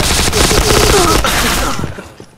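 Rapid gunfire from the shooter game Point Blank rattles in loud, tightly spaced bursts for about two seconds before cutting off.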